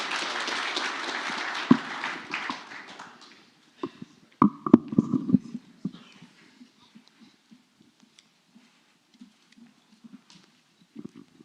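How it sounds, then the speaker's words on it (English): Audience applause at a startup pitch night, a moderate round of clapping that fades over the first few seconds, followed by a few scattered louder claps and then sparse faint taps and footsteps. "Give a round of applause."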